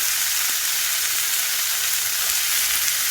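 Leek sizzles steadily in hot oil with mushroom seasoning, for an Asian spinach and snake bean dish: a dense, even hiss with no break, close and fairly loud.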